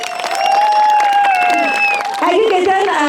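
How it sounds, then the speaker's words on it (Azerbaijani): Audience applause at a children's dance festival in Shusha, steady and dense with a few whistle-like tones ringing over it, while a voice speaks across the clapping. "alqış istəyirəm."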